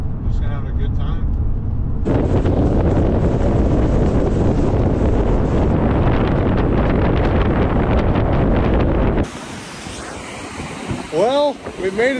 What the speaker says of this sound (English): Sorry if you can hear the wind behind me